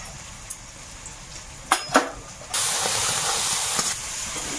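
Onions frying in a pan with turmeric and salt for chicken biryani: after a few sharp clicks, a loud, steady, close sizzling hiss takes over and runs to the end.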